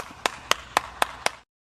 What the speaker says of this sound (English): Clap it up for the sick guy.